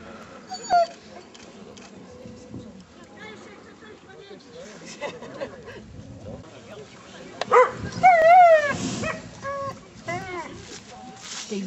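Greyhounds at a coursing event bark, yip and whimper, with short excited outbursts scattered throughout and a louder flurry toward the end, mixed with people talking nearby outdoors.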